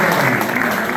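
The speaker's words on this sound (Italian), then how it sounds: "Questo è un applauso che rivolgete a voi stessi per questo grande successo" A brief burst of steady applause from an audience in a hall honouring high-school students of the Liceo Da Vinci, dense and fairly loud.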